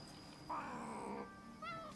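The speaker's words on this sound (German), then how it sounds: "Katze!" A cat in the video game Rise of the Ronin gives a drawn-out meow, then a shorter second one, both close and clear over a quiet background hum.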